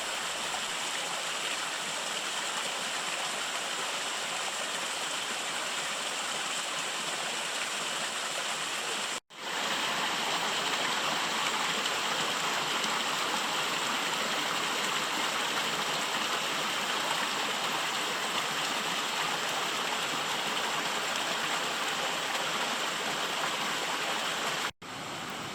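A tributary creek flows steadily nearby on the trail to Siffleur Falls, a continuous bright rush of water with no voices, interrupted by two brief dropouts.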